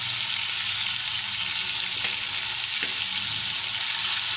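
Spices with turmeric, coriander-cumin, chili powder and salt fry in hot oil for a chicken roast, a steady close hiss with occasional scraping stirs and no voices.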